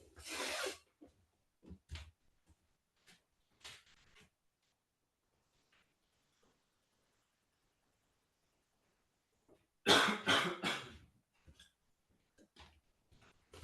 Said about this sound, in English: there will probably be more coughing in this talk